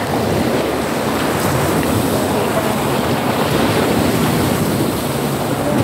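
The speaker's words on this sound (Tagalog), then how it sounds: "magkusog-kusog ang dagat." Rough sea waves surge and wash continuously at close range, a dense, roaring wash blended with steady wind buffeting the microphone.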